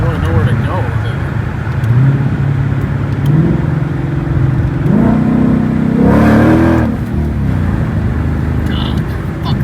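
A supercharged 2021 Ford GT500 accelerates hard from inside the cabin, its engine note climbing in pitch in two surges while people talk over the loud, steady roar.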